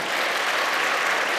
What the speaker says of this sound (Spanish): Te podéis aplaudir también.